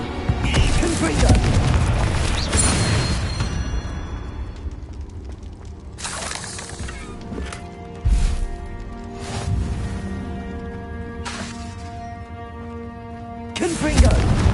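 Repeated booming Confringo spell blasts in Hogwarts Legacy inside a cave, a heavy burst at the start followed by several sharper hits and rumbling bangs spread across the stretch over game music and a voice.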